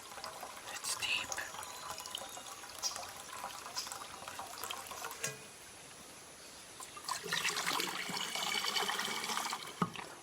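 Water trickles and gurgles in a slow-flowing, clear stream outdoors, a soft continuous babble that swells louder toward the end.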